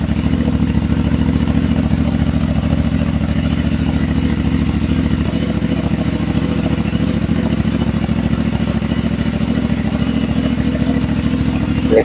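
A CF Moto 450MT motorcycle engine warms up at idle, a loud, steady, even mechanical drone with a light clatter that holds unchanged close by, with no talking.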